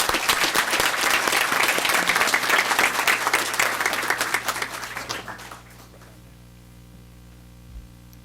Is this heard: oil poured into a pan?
no